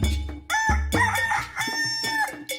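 A rooster crows at dawn in a village, its loud, close cock-a-doodle-doo standing alone with layered harmonic calls over a couple of seconds.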